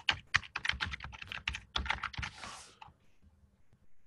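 Rapid keystrokes on a computer keyboard as an email address is entered on a store checkout page, a dense run of clicks for about three seconds, then a quiet pause.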